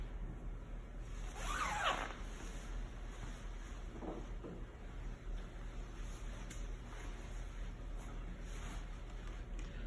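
A zipper drawn up the front of a PPE protective suit, one quick rasping pull followed by a shorter second pull, close and clear over steady wind-like background noise.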